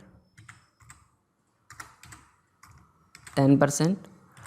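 Numbers typed into a spreadsheet on a computer keyboard: soft, scattered key clicks in short bursts, with a voice speaking clearly near the end.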